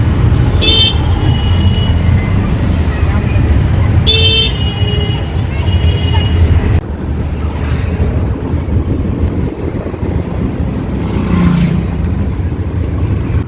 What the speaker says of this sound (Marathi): थोडं ट्रॅफिक आहे